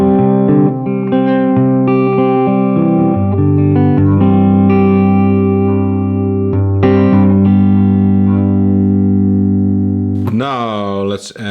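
An electric guitar plays sustained overdriven chords and notes through an overdrive pedal on a Tsakalis Audioworks Multicab 4, warm and loud, ending with a pitch-bending swell.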